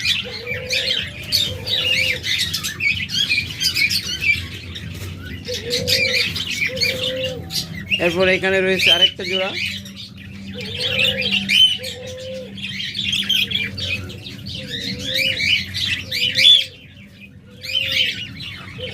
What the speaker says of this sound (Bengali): দেখুন কত চমৎকার পাখিগুলো